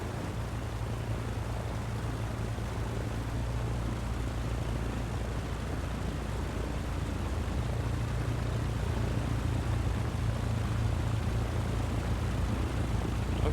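Beechcraft Baron twin-engine aircraft in Microsoft Flight Simulator, engines running steadily before taxi: a continuous loud droning rumble with a low throbbing tone that holds throughout, alone with no talk.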